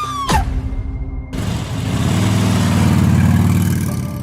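A motorcycle engine comes up after a short sharp sweep and cut, a rough mid-low engine drone that grows steadily louder and nearer as the motorcycle approaches, heard alone without talk.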